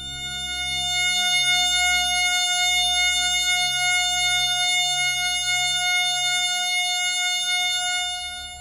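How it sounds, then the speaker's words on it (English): Steady sustained electronic tones stack into an F sharp major chord, a bright pure hum holding unbroken for several seconds with a soft low pulsing underneath. "3600 vibration cycles create the A sharp needed to complete yet another F sharp major chord"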